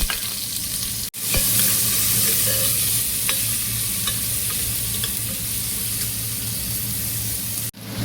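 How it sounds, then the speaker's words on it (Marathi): Onion fries in hot oil with asafoetida and cumin inside a pressure cooker, a loud, dense sizzle with stirring scrapes, briefly cut off near the start and again at the end. "हिंग टाकते, जिरा टाकते, टाकलेला कांदा टाकते."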